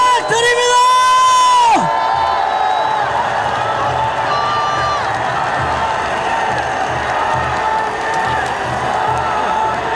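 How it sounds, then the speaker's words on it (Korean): A large outdoor rally crowd at a political gathering at Dongdaegu Station cheers loudly and steadily, with whoops and shouts over sustained clapping, after an amplified voice trails off at the start. "다시 한번 뜨거운 박수 부탁드립니다"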